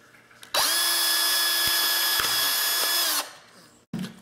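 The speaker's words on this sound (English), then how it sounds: "So I just drilled a hole." A power drill bores a hole for a hydroponic green onion setup, whining steadily and loudly at close range for about two and a half seconds before winding down, followed by a brief rustle.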